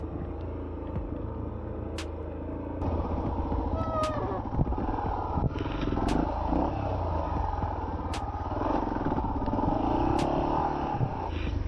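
A dual sport motorcycle rides a rough trail, its engine rumbling steadily close by with revving swells and some higher squealing tones over the continuous drone.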